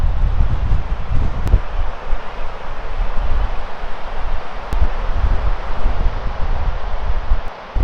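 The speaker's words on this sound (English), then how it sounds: "It's really windy here." Strong winter wind in the Scottish Highlands roars steadily, buffeting and rumbling with constant broadband rushing noise, loud and unbroken throughout, with no voices.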